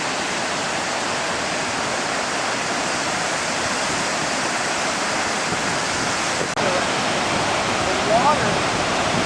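Niagara Falls roars as a constant, dense rush of falling water, loud and unbroken throughout with no pauses.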